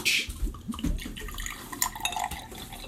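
A fizzy soda poured into a glass crackles and hisses with bubbling and small liquid splashes, close and moderately loud, with no talking.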